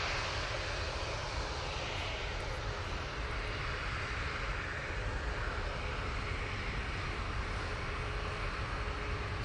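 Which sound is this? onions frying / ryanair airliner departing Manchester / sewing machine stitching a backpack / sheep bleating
ryanair airliner departing Manchester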